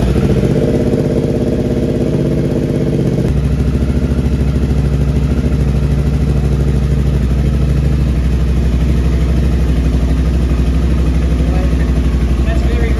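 A supercharged Triumph Bobber motorcycle engine idles loud and rich, its steady low rumble dropping slightly in pitch after a few seconds and running on unchanged to the end.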